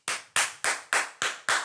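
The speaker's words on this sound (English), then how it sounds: "You have to have a nice pop when you clap." Six sharp hand claps with a crisp pop, evenly spaced in a quick steady rhythm, close and loud with no talk.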